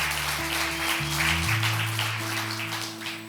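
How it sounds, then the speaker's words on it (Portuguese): A church audience applauds in a steady broadband wash for a few seconds, over sustained low keyboard or organ notes that hold and shift underneath. "eu queria dar uma salva de palmas para o Daniel Merigo e para o Christopher"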